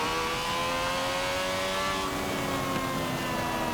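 Prototype race car engine in Forza Motorsport 7 on the Nordschleife, a loud sustained high-revving drone with rising and shifting engine tones, continuous throughout and up close, with no talking.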